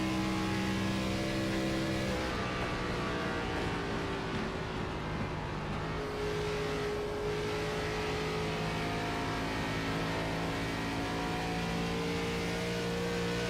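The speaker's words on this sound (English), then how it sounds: "You really hear the throttle modulation there that Jared has to put into the car as well to get it to rotate" A race car engine at a Fuel Premier Series finale in Miami revs and lifts in continuous throttle modulation as the driver works it to rotate, loud and close with steady harmonic drone and shifting pitch throughout, no talk.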